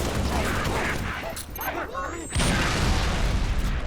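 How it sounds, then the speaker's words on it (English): Grenade blast in Halo, a heavy boom landing amid ongoing gunfire and game noise, with a second surge of rumbling blast after a brief lull. "Grenade, heads up!"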